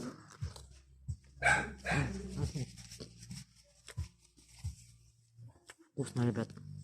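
A small dog barks in short repeated yaps beside an evening campfire, mixed with close chewing and conversation, the barks popping up intermittently between the voices.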